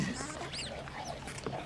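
A dog in the 2000 film Snatch gives short yelping, whimpering cries mixed in with film dialogue and people talking over it, fairly faint overall.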